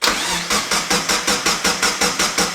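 An Exocet race car engine cranks over on the starter in a steady, evenly spaced rhythm of about ten loud strokes without catching, close up and with no talk.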